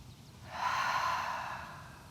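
One slow, deep exhale during an outdoor Pilates mat workout in a park, swelling and fading over about two seconds, soft and close.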